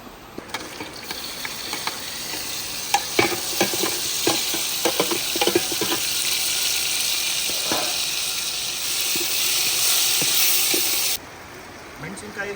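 Onions frying in oil for Malnad-style mutton dum biryani, sizzling steadily with frequent scraping clicks from a stirring spoon against the pan, close and fairly loud, before the hiss drops away near the end.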